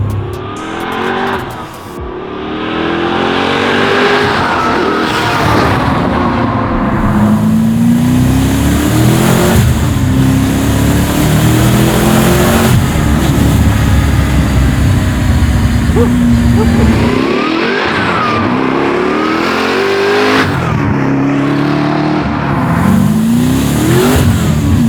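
Twin-turbo Ford Mustang built in Hoonicorn style accelerating hard, its engine rising through repeated pulls with rising pitch sweeps and brief dips between gears, loud and close throughout.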